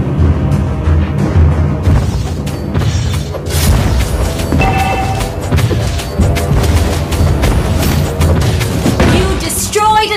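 A turret is destroyed in the video game Mobile Legends, with loud booming crashes and impacts over busy game music and announcer-style voice lines.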